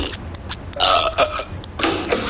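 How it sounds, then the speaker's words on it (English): A cartoon character lets out a long, loud, rasping burp in two drawn-out bursts. "are you burping again?"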